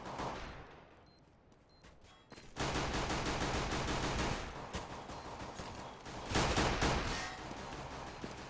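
Gunfire rattles through a Counter-Strike match in a video game, with dense bursts of rapid shots and louder fusillades that come and go over several seconds, and no voices in the clip.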